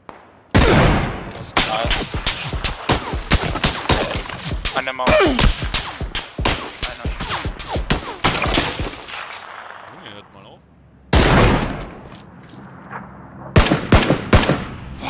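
Gunfire in the video game PlayerUnknown's Battlegrounds, loud bursts of rapid automatic shots and single cracks in several clusters separated by short pauses, with a player talking between them.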